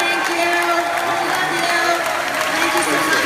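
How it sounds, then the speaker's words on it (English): A convention audience at a Star Trek cast Q&A claps and cheers in a dense, steady wash of applause, with a voice speaking faintly over the crowd. "Let's give a big round of applause."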